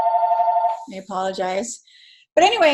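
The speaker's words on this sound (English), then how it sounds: "sorry about my phone's going off" A mobile phone rings with a steady, tonal chime that lasts nearly a second during a nutrition lecture. It cuts off abruptly, and a speaker then talks.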